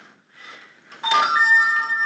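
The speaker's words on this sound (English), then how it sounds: "Somebody forgot to shut their phone." A mobile phone ringtone sounds in a board meeting room, starting faintly and then ringing out loud and clear with a sustained electronic melody, with no one speaking over it.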